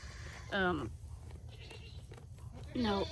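A young doe goat, not yet bagging up before kidding, gives two short, nasal bleats close by on a farm, with low background noise between them.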